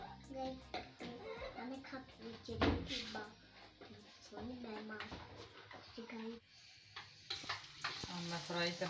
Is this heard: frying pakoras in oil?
yes